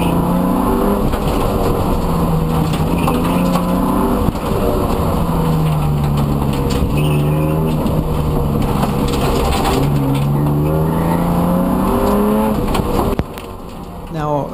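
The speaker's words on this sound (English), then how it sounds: "now I'll just quiet down and let you listen to the car for a bit." A BMW E36 325i with a welded differential roars and revs up and down repeatedly, with tire noise and rattling, as it is pushed hard around an autocross course.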